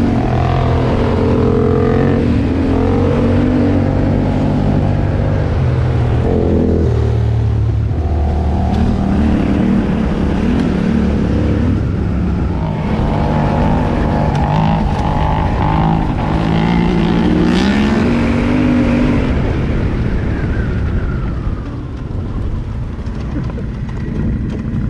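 Yamaha T700 motorcycles riding trails, with engines droning and revving continuously up and down, loud and close throughout with wind buffeting.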